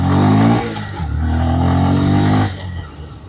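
A 2026 Bajaj Pulsar 125 motorcycle pulls away up close, its engine droning loudly and climbing in pitch through a gear change before the sound eases off as it rides away.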